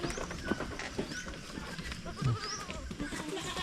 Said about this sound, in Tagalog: Marami po tayong mga babaeng kambing dito mga kaprobinsya.